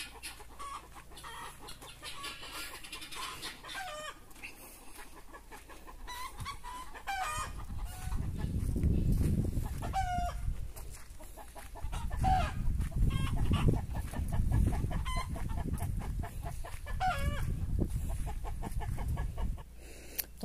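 Chickens cluck and a rooster crows on a rural farm where a fox has been raiding the flock. Scattered clucks and calls ring out, some close and some farther off, with no one speaking.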